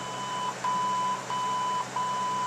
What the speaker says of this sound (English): That's going to beep and put us into balance mode.